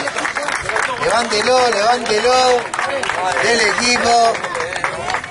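A crowd at a football award ceremony applauds and cheers as the top scorer receives his trophy, with loud, dense clapping heard throughout under an announcer's voice talking over it.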